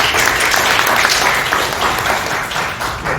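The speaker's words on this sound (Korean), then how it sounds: "여러분 큰 환영의 박수 드립니다." An audience at a Korean-German unification forum gives welcoming applause as a panelist is introduced, loud, dense clapping filling the room continuously for a few seconds.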